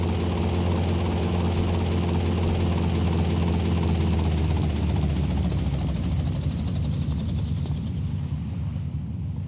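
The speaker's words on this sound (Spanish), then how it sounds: "Podemos llegar al estadio en helicóptero." A helicopter flies in GTA Vice City Stories, a loud continuous rotor and engine roar with steady chopping texture that thins slightly toward the end.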